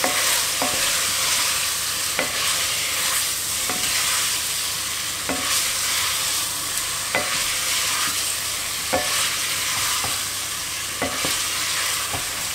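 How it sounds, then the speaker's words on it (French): A spoon stirs paprika, oregano and thyme through a sizzling pot, scraping the bottom in sharp strokes roughly every second and a half over a steady frying hiss, close and fairly loud, with no talking. "On va bien mélanger."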